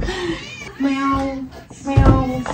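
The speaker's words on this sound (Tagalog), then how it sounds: "Meow, meow, meow." A hungry cat meows repeatedly up close, with drawn-out, rising cries in a short sequence, mixed with some handling noise nearby.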